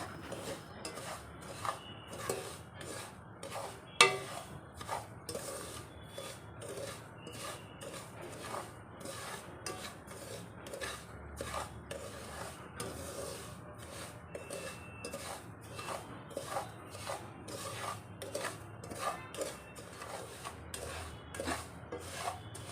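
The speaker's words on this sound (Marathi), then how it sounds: "हा रवा मी तुम्ही बघू शकता की व्यवस्थित भाजून घेत आहे" Steady scraping and rubbing of a spoon stirring semolina roasting on low heat in a pan, a continuous rhythmic rasp with occasional sharper knocks, close and fairly quiet.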